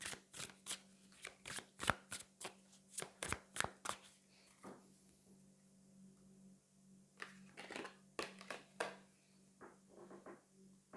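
Tarot cards shuffled by hand in a series of quick riffling bursts, each a crisp papery flutter, coming in irregular clusters with short pauses between, close and fairly quiet.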